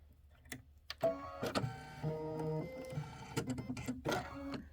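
An embroidery machine stitches ripples onto a quilt block, giving a steady mechanical whir with rhythmic pitched stepping tones and clicks, close and moderately loud, with no talking.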